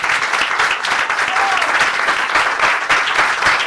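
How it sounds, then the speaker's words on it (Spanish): Church congregation clapping together, dense sustained applause filling the room for several seconds, loud and even, with a few voices mixed in. "Le doy un aplauso al Señor."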